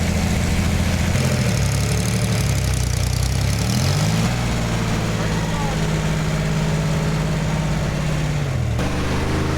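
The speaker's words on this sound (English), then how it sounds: "sounds a little rough idling" A car engine idles loudly and unevenly, its pitch shifting a couple of times, with a voice faintly audible under the steady rumble.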